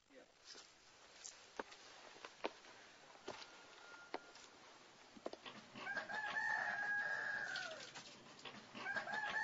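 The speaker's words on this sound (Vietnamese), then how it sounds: "tiếng gà gáy còn râm ran từ đầu bản đến cuối rừng" A rooster crows at dawn in a misty Hmong highland village, its drawn-out call rising clearly in the second half after a stretch of soft rustling and scattered clicks, with another crow beginning near the end.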